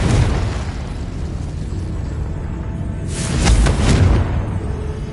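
Spell explosions from Bombarda and Confringo blasts in the video game Hogwarts Legacy, a sustained rumbling boom with a louder burst midway, no talking.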